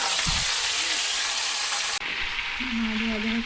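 A pan of Bengali fish curry (macher jhol) cooking with spices gives a steady close sizzle and bubbling hiss throughout, with a brief stir or clink near the start and a faint low hum toward the end.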